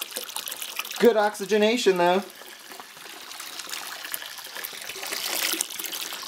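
Wine juice for an Italian Sangiovese kit is poured vigorously into a vessel, splashing and trickling steadily in the background while someone talks briefly over it.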